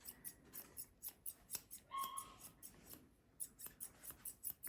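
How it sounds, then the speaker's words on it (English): Small scissors snip in quick irregular clicks close to a young schnauzer puppy named Callie, light metallic cuts repeating through a few seconds with soft rustling between them. "going to just be exposing Callie to the sounds of the scissors"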